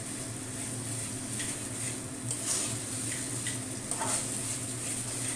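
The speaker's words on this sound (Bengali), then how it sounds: "এবার এইটা চালটা এর সঙ্গে ভালো করে কষাতে হবে।" Rice being sautéed with fish head in a pan over medium heat for muri ghonto: a steady low sizzle under faint, intermittent scraping of a spoon against the pan.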